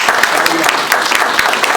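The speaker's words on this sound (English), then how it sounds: "That deserves a round of applause." Brief, loud burst of audience applause during a museum talk, steady dense clapping throughout with a faint murmur of voices underneath.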